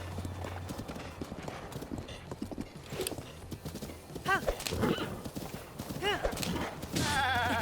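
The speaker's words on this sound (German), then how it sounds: "Das Reiten ist schon ein bisschen anstrengend, schon auch. Vor allem beim Galoppieren." Horse galloping in the video game Zelda Breath of the Wild, rhythmic hoofbeats under people talking, with neighing whinnies rising near the end.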